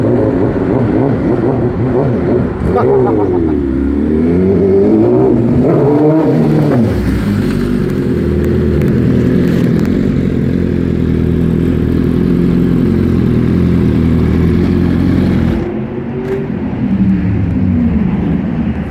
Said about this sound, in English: I hear Zach returning on the S1000.